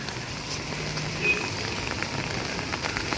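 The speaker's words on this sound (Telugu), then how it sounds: "వర్షం పడిపోతుంది" Steady rain patters softly on surfaces outdoors near a vegetable garden, a continuous gentle hiss with no talking.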